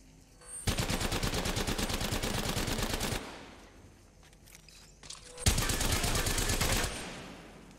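In the video game Apex Legends, a Havoc rifle charges up and fires with a turbo charger glitch, letting out two loud, sustained bursts of rapid automatic gunfire separated by a short pause.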